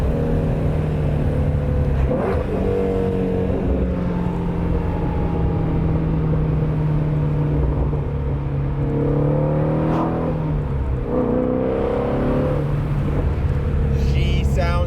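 A Ford Shelby GT350 on its stock exhaust revs and pulls hard, its exhaust note climbing and dropping between shifts, with a voice exclaiming briefly over it.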